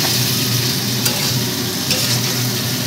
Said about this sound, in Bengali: ভাজা হতে থাকুক